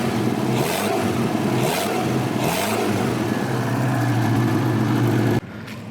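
A Volvo Amazon engine runs and revs in a few rising bursts, loud and close, then cuts out abruptly near the end.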